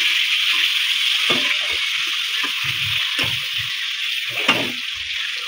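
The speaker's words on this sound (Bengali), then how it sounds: "এখানে পটলটা ভাজছে" Pointed gourd (potol) fries in oil in a pan, a steady close sizzle with occasional stirring scrapes and clinks over it.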